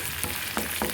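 Chopped onions sizzle in hot oil in a pan for a spiny eel (baim fish) curry, with a steady frying hiss and a few scraping stirs of a spoon, close by and without talk.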